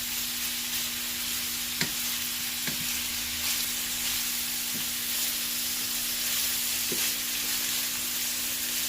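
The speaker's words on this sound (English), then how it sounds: "And then these onions and green chilies and the curry leaves, gets fried along with the bitter gourd." Onions, green chilies and curry leaves fry with bitter gourd in a Ninja Foodi air fryer, a steady broad sizzle and hiss running throughout with a few faint clicks of stirring, and no talking.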